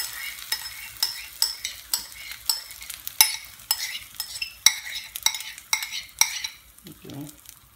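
Vegetables and other omelette ingredients fry in hot oil while a utensil scrapes the pan in quick, regular strokes over a soft background sizzle, close and clear, with no talking.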